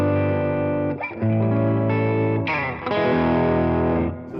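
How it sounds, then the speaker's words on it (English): An electric guitar plays through a Line 6 Catalyst 200 amp set to a dirtier boutique tone, with sustained distorted chords and notes ringing close and loud, shifting a few times with no talk. "There's a bit more drive,"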